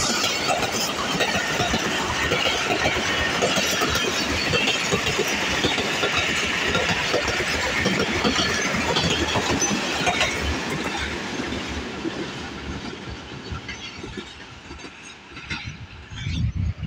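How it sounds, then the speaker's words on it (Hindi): Thal Express passenger train led by an HBU20 locomotive rolls past nearby in a village setting, a loud sustained rumble and rhythmic clatter of wheels that gradually fades as it moves away. "सामने से आ रही है 130 डाउन थाल एक्सप्रेस, HBU20 लीड पे है"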